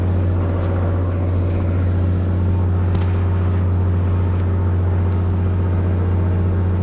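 An aircraft engine runs at a steady, loud drone during a magneto RPM drop check, with an unbroken low hum and no pauses.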